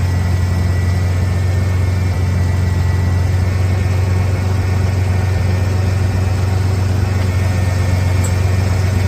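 A Ford Bronco engine under restoration idles steadily at about 850 RPM, a loud, continuous low rumble with an even throb and no gaps, heard close up and alone.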